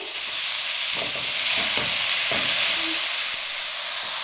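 Finely chopped cabbage and green chillies fry in a pan, giving a continuous bright sizzle with a few soft stirring scrapes and thumps in the middle.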